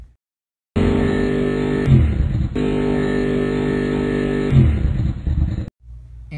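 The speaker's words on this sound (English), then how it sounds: "I'm going to test my new engine today" A car engine revs loudly and steadily in two long pulls, with brief shifts in pitch at each change, then cuts off abruptly into near silence.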